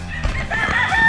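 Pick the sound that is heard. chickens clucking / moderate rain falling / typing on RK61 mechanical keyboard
chickens clucking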